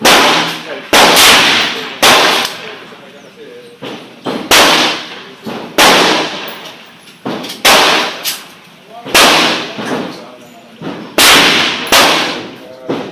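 A Ruger Super Redhawk .44 Magnum revolver fires about nine loud, sharp shots at a slow, uneven pace, each crack followed by a brief rumbling decay outdoors.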